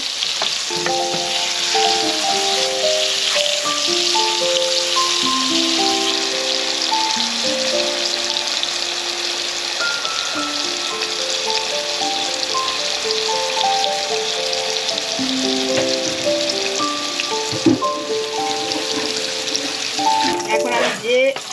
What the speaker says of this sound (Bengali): লাল হলে বেগুনটাকে আমি তুলে নেব খুব বেশি কড়া করে ভেজে নেব না